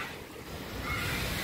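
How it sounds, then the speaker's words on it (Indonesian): A river near a glamping site at a waterfall rushes steadily, a dense broadband wash of flowing water with a wind-like hiss, continuous and fairly even in loudness. "Sungai."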